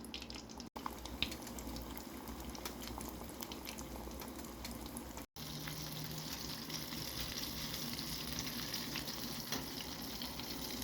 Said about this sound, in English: Make sure to be really careful when frying.